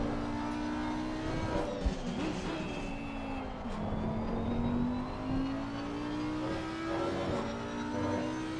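An Audi GT race car engine in Assetto Corsa Competizione, a sustained droning note that rises and falls as revs change through the gears, steady and fairly loud with no talk over it.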